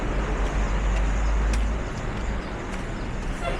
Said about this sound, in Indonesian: Tuh kan ada bis.